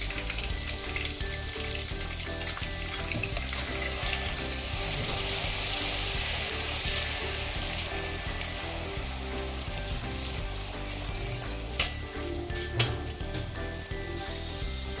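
Ginger-chili and garlic paste sizzles steadily in a hot pan for pav bhaji, a dense continuous frying hiss with a few brief clinks and scrapes of stirring near the end.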